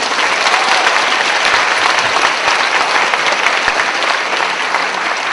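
An audience at a cultural event, a Romanian magazine launch, claps in sustained, dense applause that stays loud and even across the whole stretch with no talking.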